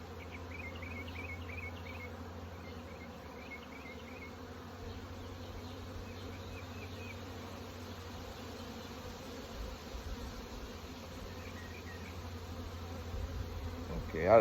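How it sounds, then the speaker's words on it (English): Honeybees from a swarmed hive drone in a steady, soft buzz while the hive lies open during requeening, with a few higher buzzes and a faint clunk at the end. "They're starting to buzz a little bit, but that's okay."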